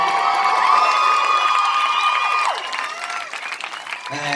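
A crowd at a film premiere for Aladdin in a shopping centre claps and cheers loudly, with high whoops and shouts riding over continuous applause that eases slightly toward the end.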